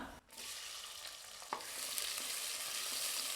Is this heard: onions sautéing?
yes